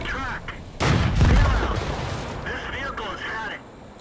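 A tank gun fires with a sudden heavy blast in World of Tanks, rumbling and fading, amid game voices and chatter.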